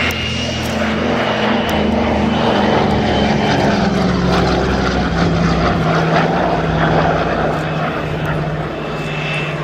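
A Douglas DC-3 (C-47) propeller airliner flies past at an airshow with a loud, steady, droning engine roar that shifts slightly in pitch, under a commentator's voice.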